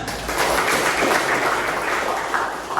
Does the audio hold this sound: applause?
yes